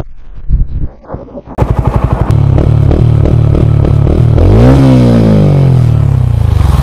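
A TVS Ronin single-cylinder motorcycle idles with sharp, loud exhaust pops, settles into a rapid rhythmic thump, then revs up in a rising whine and eases back, heard up close.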